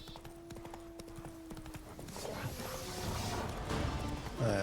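Roach, the horse in The Witcher 3 video game, gallops with rapid clip-clop hoofbeats that grow louder and denser toward the end, over a game soundscape.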